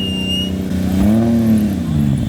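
A crashed Nissan 240 catches during a push start and its engine revs up and falls back, loud and close, with a squealing tone and voices nearby.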